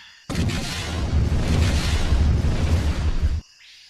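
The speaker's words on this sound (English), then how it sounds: "the stormtrooper abruptly dissolved in a brilliant explosion." A sudden loud explosion bursts in and roars steadily for about three seconds before cutting off sharply, with no voices.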